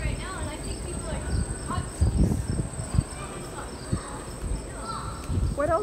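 Crickets chirp steadily outdoors in Central Park aboard the Allure of the Seas cruise ship while people talk and move nearby, their voices often louder than the insect trill.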